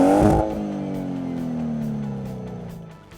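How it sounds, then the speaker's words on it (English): A 2017 Nissan Micra engine revs briefly, then its note drops and fades as it settles, a smooth throaty tone trailing off over a few seconds. "the engine sounds somewhat throaty"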